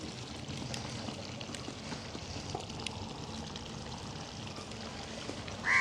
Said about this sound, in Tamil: ஒரு கொஞ்சமாக நாங்கள் புளி விட போகிறோம்